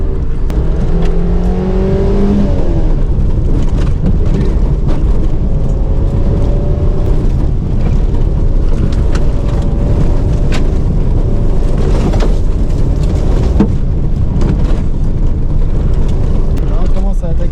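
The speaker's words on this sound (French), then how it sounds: "ça grimpe, t'imagines même pas comment ça grimpe une 205" A Peugeot 205's engine labors and revs under load climbing an off-road track, a steady loud drone with shifting pitch and rough rumbling, with occasional voices mixed in.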